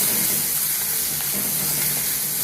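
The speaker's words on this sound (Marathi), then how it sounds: "एक दोन सेकंड जरा असं परतून घ्यायचं मिरच्या" Green chilies sautéed in a pan for guava sabji sizzle steadily, a dense, even frying hiss held close and loud for the whole short stretch.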